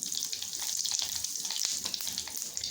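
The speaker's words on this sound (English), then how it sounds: "Now the mustard seeds are spluttering." Mustard seeds crackle and pop in hot oil for a mango pickle, a steady close sizzle with scattered sharp spluttering bursts, no voices.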